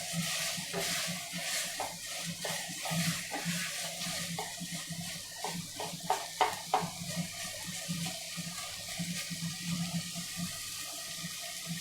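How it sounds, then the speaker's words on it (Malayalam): Chicken curry mixture for a creamy Mughlai-style chicken curry fries in a pan over a raised flame, giving a steady wet crackle with scattered sharper pops and some stirring noise throughout. "ഇനി നമുക്ക് ഫ്ലെയിം കുറച്ച് കൂട്ടിയതിന് ശേഷം നന്നായിട്ട് ഇതൊന്ന് ഫ്രൈ ചെയ്തെടുക്കാം"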